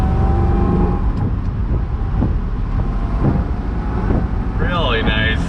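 A 1966 Corvette C2 Stingray 427 drives along, a low engine rumble mixed with wind buffeting from inside the car, with a voice speaking over it.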